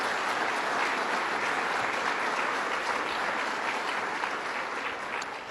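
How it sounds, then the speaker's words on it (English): A large audience at Governor Cuomo's 2012-13 executive budget presentation in Onondaga County gives a sustained, dense round of applause, loud and even throughout without a break. "Let's give them another round of applause."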